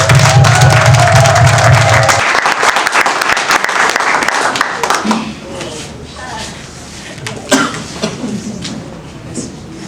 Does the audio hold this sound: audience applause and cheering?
yes